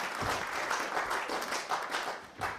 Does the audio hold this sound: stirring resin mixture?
no